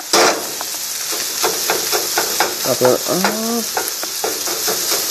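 Fried rice with brown sugar and butter sizzling steadily in a pan, with repeated scraping stir strokes and a brief voice-like tonal sound midway.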